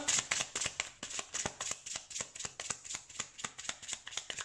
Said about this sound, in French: Je vais me tirer plusieurs cartes.